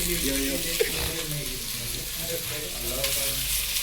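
Onions hiss and sizzle in a hot pan as biryani is cooked, a steady frying crackle with occasional stirring, while people chat in the background.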